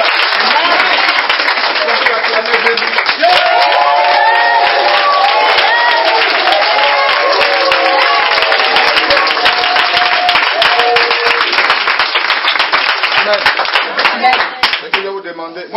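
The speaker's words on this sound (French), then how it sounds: "Est-ce qu'on peut acclamer Jésus de..." A church congregation claps and cheers for Jesus in a long, sustained round of loud applause, dense rhythmic hand claps with shouts mixed in, tapering slightly near the end.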